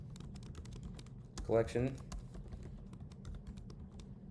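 Quiet, rapid clicking of computer keyboard keys in a short burst, with a person speaking briefly over the typing.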